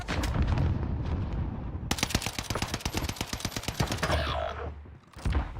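Rapid automatic gunfire from a fast-firing weapon in the shooter game Warzone, a loud sustained burst of closely spaced shots, with other game sounds before and after.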